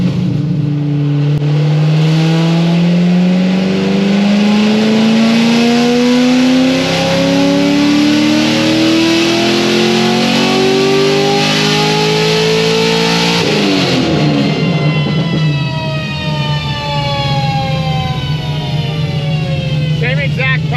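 A Stage 4 Corvette Z06 engine revs up loudly and steadily, pitch rising for about thirteen seconds before dropping back to a rough, heavy idle, close and overpowering throughout.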